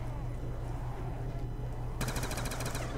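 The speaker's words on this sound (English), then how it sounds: "I just shot at nothing." Rapid automatic gunfire in Black Ops 2 Zombies cuts in abruptly and rattles on in a fast, even stream over a constant background drone.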